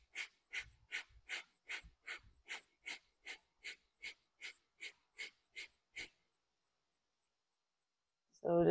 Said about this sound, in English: it's a very quick breath in and out through the nose